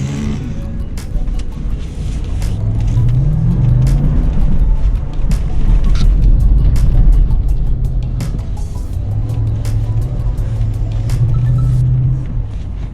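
A Lexus GX 460 SUV pushes up soft sand dunes. Its engine revs in a loud, low rumble that climbs and holds under throttle, with rising pitch sweeps as it gains speed.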